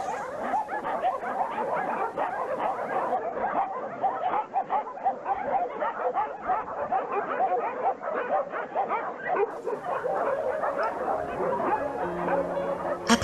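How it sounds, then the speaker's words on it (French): A crowd of dogs at the Subotica shelter, home to about 450 dogs, barking, yipping and whimpering together in a dense, continuous chorus, near and far at once. "Ce refuge accueille environ 450 chiens."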